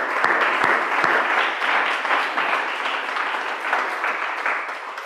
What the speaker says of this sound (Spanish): Vamos a darles un aplauso también a todos los que están conectados.